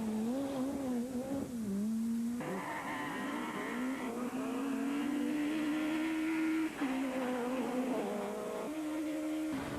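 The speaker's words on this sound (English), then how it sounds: "Being normally aspirated, in other words, no turbo, Garry Jennings has to keep the revs up to keep the pocket rocket on cam" Normally aspirated rally car at a Punchestown rallysprint, engine held high and screaming through shifting revs, rising and dropping pitch over several seconds, fairly distant and continuous without speech.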